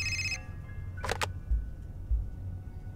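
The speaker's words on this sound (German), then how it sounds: "Telefon." A short electronic telephone ring in the video game Fahrenheit cuts off within half a second, followed by a couple of brief clicks over a low, steady background hum.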